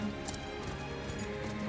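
Horse hooves clip-clop in a steady galloping rhythm through Octopath Traveler 2, a rider pushing through the night, the beat even and moderately loud over a soft background bed.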